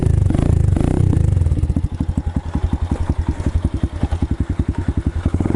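A 125cc Chinese pit bike with a big bore exhaust idles close by, its engine starting with a loud roar, then settling into a rapid, even, throbbing putter that continues steadily.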